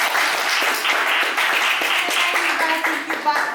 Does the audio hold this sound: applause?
yes